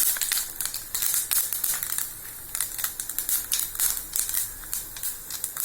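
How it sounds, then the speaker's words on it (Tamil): Mustard seeds crackle and pop in hot oil while tempering for a horse gram kuzhambu. The popping is dense and irregular, with sharp close bursts that run without a break and no voices. "இப்போ ஆயில் ஊற்றிருக்கேங்க. கடுகு போட்டுக்கலாம், தாளிச்சிடலாம்."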